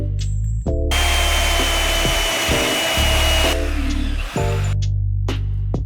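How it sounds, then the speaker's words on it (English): A power tool cuts through pieces of metal on a vintage crosskart, two loud, sustained whining bursts with a tonal motor hum between them, close by. "We're gonna cut off these two pieces of metal right here"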